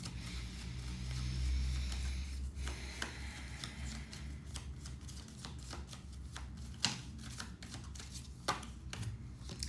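Tarot cards are shuffled close by in a quiet room, giving soft rubbing riffles and sharper snapping card clicks in irregular bursts.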